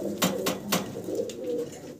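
A pair of black checker exhibition pigeons coo at close range, with a few soft repeated coos and bursts of wing or body movement over a steady low murmur.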